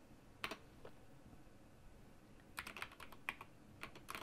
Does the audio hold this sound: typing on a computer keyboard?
yes